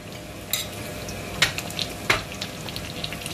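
Paneer and onions fry in hot oil for a paneer milk curry: a steady hiss of frying broken by a few sharp clinks of a utensil against the pan.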